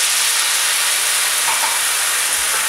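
Wine poured into a hot pan with paprika for a traditional Cádiz noodle dish with tomato and mackerel, giving a steady, loud hissing sizzle of evaporating liquid that runs unbroken from start to finish.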